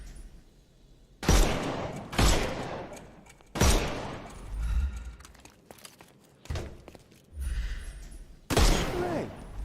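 Gunfire in a Sherlock Holmes game on PS5, aimed at knocking armour off enemies: several loud, close shots in spaced bursts with echoing tails, separated by brief quieter gaps with faint mechanical clatter.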